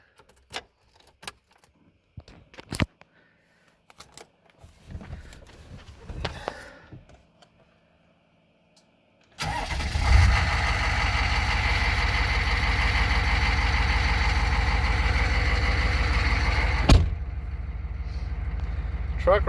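A 1998 6.5L turbo diesel truck cranks and fires up after some clicks and key sounds, then settles into a loud, steady, low diesel idle clatter that runs on with a brief bump partway.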